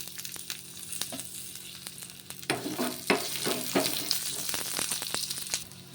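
Chopped onion frying in a little oil in a kadai, a steady close sizzle with occasional stirring scrapes and crackles growing louder partway through.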